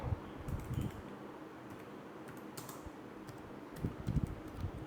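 Close typing on a computer keyboard during text editing: bursts of quick key clicks at the start and near the end, with sparser taps between, faint and without talk.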